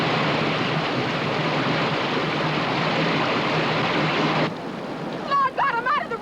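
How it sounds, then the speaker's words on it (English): Whitewater river rapids roar as a dense, loud, steady rushing wash for several seconds, then cut to quieter water as people shout over it. "Whitewater ahead!"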